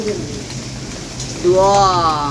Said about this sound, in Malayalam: നമ്മളുടെ നാട്ടിലും മഴ കിട്ടുന്നു മഴ പെയ്യുന്നു കണ്ടോ